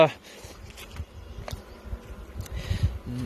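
Spring honey bees hum around an open hive on a sunny Michigan day, a moderate buzzing with scattered knocks and handling noises, and a voice briefly near the end.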